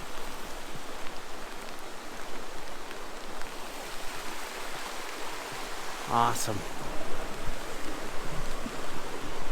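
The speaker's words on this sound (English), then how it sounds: "And this is the Isabella River flowing out." Steady broadband rush of a wide stretch of the Isabella River flowing out under rain, a continuous wash of water noise throughout, with a brief spoken word and a short rustle near the middle.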